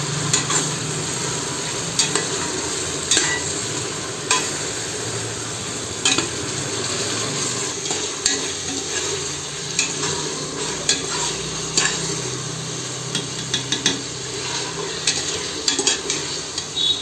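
Tomatoes, green chillies, mint and coriander leaves sauté in a pan, a steady sizzle broken by frequent sharp scrapes and clinks of a spoon stirring, close and fairly loud with no talking.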